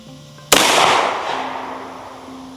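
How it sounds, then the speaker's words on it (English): A single loud, sharp shot from a compact 1911-style 9mm pistol firing a Gold Dot round, followed by a long, fading reverberant tail over a steady low background hum. "First shot will be the gold dot at number 6."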